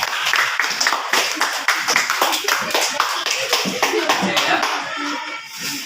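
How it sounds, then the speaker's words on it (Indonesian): Students in a classroom clap their hands in a quick, uneven burst of many claps, loud and close, with a brief spoken word over it. "Tepuk tangan dulu."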